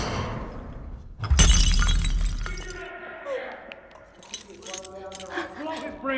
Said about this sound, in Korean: 줄스가 떨어뜨려 산산조각이 나버린 인형을 진짜 아들처럼 아꼈던 글로리아는 충격을 받고